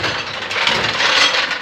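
A BMW 750iL V12 engine runs steadily nearby, a dense, broad mechanical whir and rush with no pauses or revving.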